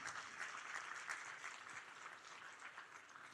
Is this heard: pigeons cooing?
no